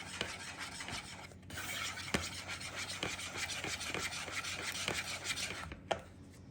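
Flour being stirred into eggs for crepe batter (nalysnyky), a continuous close scraping and rubbing of a utensil against a bowl with sharp clinks at irregular intervals, no speech.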